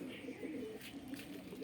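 Moulting pigeons cooing faintly at close range, a soft continuous low burbling call lasting the whole short clip, quiet and slightly muffled.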